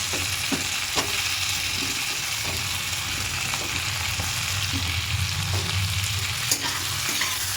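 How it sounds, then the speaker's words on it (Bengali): Onion and capsicum sautéing with mixed vegetables in a pan, a steady loud sizzle with regular scraping stirs of a spatula throughout, no voices. "খুব ভালো করে ফ্রাই করবো।"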